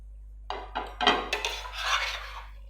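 Lightly fried okra is stirred into dhaba-style bhindi masala in a pan: a series of close, dry scraping and rasping strokes of a spoon against metal, quickening into a rough continuous rub with no talk.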